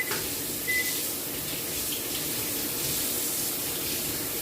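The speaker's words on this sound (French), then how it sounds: "Je vais juste le rincer un petit peu" A cucumber rinsed under a running kitchen tap, steady close hiss of flowing water with no talking.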